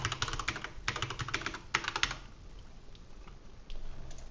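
Quiet, quick typing on a computer keyboard, clustered bursts of light key clicks with short pauses in between, close and alone with no talk.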